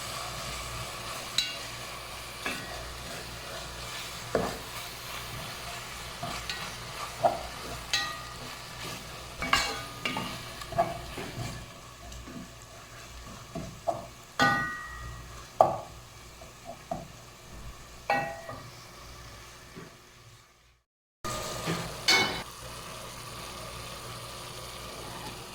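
Chicken and gobi (cauliflower) frying in a pan: a low steady sizzle runs throughout, broken by repeated sharp scrapes and clinks of a spoon stirring, with a brief silent gap near the end.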